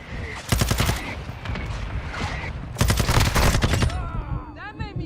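Automatic weapon fire in Call of Duty: Modern Warfare II, two loud sustained bursts of rapid shots with quieter game sounds between them, followed by brief electronic effects at the end.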